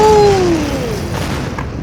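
A loud explosion in a vehicle teardown video game, with a sharp boom and then a descending whistle as debris flies, fading into a lingering rumble.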